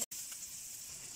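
Chopped onion sizzling in hot cooking oil in a home kitchen, a steady hiss with a brief dropout at the start, loud and close with no talking.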